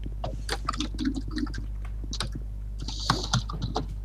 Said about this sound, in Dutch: En je hoort iemand op de achtergrond typen.